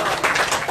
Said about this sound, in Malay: Tuan-tuan di Felda boleh tepuk tangan